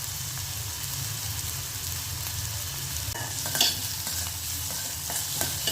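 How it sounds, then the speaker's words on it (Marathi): Green chili, ginger and garlic fry in hot oil in a pan with a constant close sizzle, broken by a few scrapes and clinks of stirring, and no one speaks. "मिरची, आलं लसूण"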